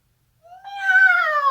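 One cat gives a single rising, drawn-out meow that swells and holds for about a second, clear and close against silence.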